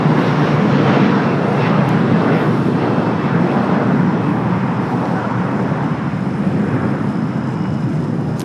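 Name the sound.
Lufthansa Boeing 747 taxiing at LAX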